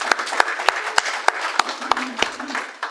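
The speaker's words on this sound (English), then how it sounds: "So let's give a round of applause to JCLA 2022." Audience applause following a cohort presentation at a community program event, sparse and uneven with distinct individual claps standing out, moderately loud and close, a short burst with no talking over it.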